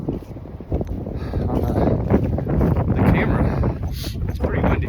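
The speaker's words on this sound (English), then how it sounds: "It's pretty windy still." Loud, steady wind buffeting a microphone, a continuous rumbling roar that fills the whole clip with no pauses.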